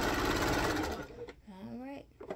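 A sewing machine stitches quilt patches for a winter jewels project, running in a dense steady burst for about a second before stopping, after which a voice talks close by.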